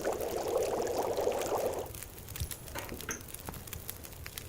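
Water pours steadily for under two seconds in The Long Dark while coffee is being made, followed by faint clinks and small taps.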